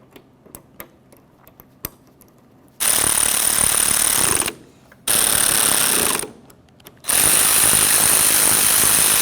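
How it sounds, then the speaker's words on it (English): A power tool tightens antenna bracket mounting bolts on a 1999-2006 Chevrolet Silverado 1500, running in three loud, close buzzing bursts of one to two seconds each, preceded by faint clicks and handling noises. "start in each of our 3 mounting bolts, and then you can snug them up"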